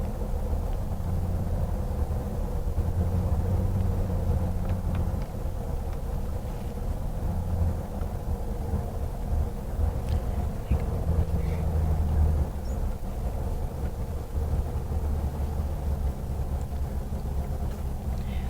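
Car ride from the airport to Lhasa: a steady low engine and road rumble drones throughout, close and continuous with mild swells, under an otherwise quiet cabin.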